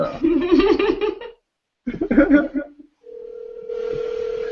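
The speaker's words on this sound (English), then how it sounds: "So I'm calling you right now." A telephone call placed on speakerphone: people talk and laugh briefly, then a steady electronic line tone hums on alone for over a second.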